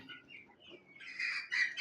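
Desi chickens cluck softly a few times, then give a couple of louder, higher calls, all fairly close and quiet.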